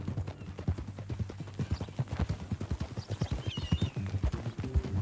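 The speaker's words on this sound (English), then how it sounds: "That a new horse?" Horse hooves in the Red Dead Redemption 2 video game, a steady clip-clop of hoofbeats at a walking pace, close by, with a faint whinny partway through.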